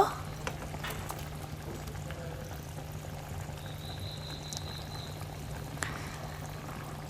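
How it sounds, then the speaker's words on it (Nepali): A steady low bubbling of liquid boiling in a pot with fried vanta (brinjal) added, continuous and fairly close, with a faint hiss and an occasional soft clink. "भक भक भक उम्लिन दिने। उम्लि पनि सकेको छ।"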